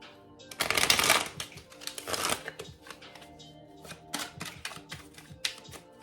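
White Sage Tarot cards are shuffled by hand in rapid bursts of crisp riffling and flicking, loudest at the start and then broken into shorter snaps and taps, close to the microphone.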